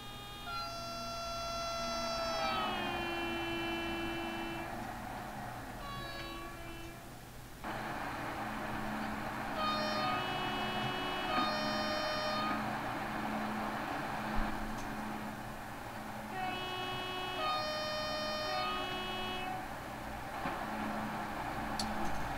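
A train in Train Simulator 2018 rolls past in a flyby, with a steady rumble carrying bright horn-like tones that bend in pitch. The sound is continuous and fairly loud throughout and gets busier partway through as the passing intensifies.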